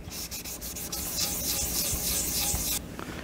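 Steady abrasive rubbing from hand-sanding a motorcycle fuel tank during prep before sealing and painting, one continuous close scratchy stroke sequence that stops abruptly near the end.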